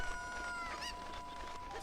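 Chickens in The Legend of Zelda: Ocarina of Time cluck briefly through a steady layer of game music and effects, a short fowl call rising in the middle of the stretch.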